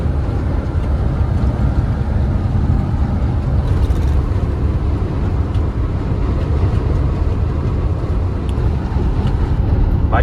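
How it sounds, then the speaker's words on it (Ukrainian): Strong wind roars steadily into the microphone, a loud constant low rumble with no voices, outdoors in France. "Бачите, який вітер?"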